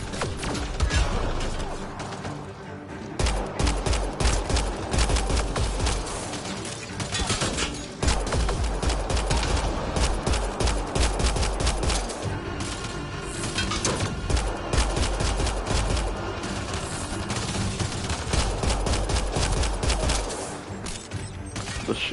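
Dense, continuous gunfire fills a Mass Effect Andromeda firefight, loud rapid bursts and mechanical clatter layered with brief dips, with no speech over it.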